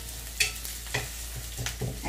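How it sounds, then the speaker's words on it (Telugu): Sliced onions and green chillies fry in a pan for upma, a quiet sizzle broken by a few scraping stirs of a spatula over a low steady hum. "ఇవి కొంచెం వేగాలి."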